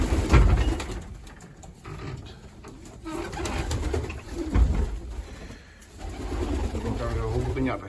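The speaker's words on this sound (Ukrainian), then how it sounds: "Це сім'я голубів, таку я роблю." Low, soft pigeon coos repeat close by while someone talks over them.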